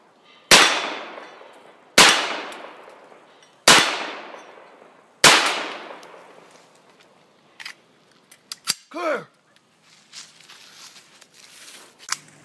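Four loud, sharp gunshots from a Hi-Point .45 pistol ring out outdoors at steady intervals, each with a long decaying echo, followed by quieter scattered clicks and brief shouts.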